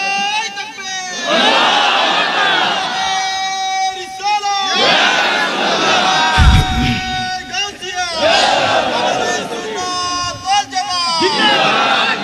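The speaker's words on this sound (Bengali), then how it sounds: "জোরে একটা তাকবীর" A large crowd at a Bengali religious sermon gathering roars the takbir in loud unison, with repeated swelling chants over a big outdoor sound system, echoing and sustained across several rounds.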